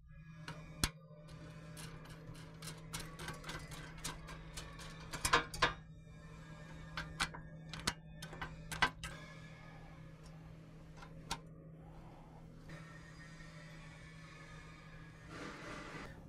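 Sparse metallic clicks and ratcheting taps from Allen bolts with lock and flat washers being fastened onto a cold air intake heat shield for a 2007-2011 Jeep Wrangler, heard close over a quiet, low hum.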